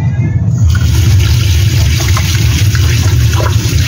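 Tap water runs steadily and close by, splashing over vegetables such as celery, chives and carrot greens being rinsed in a kitchen sink, a continuous gushing wash from start to finish.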